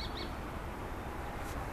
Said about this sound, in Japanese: あ、聞こえますか、野鳥の声。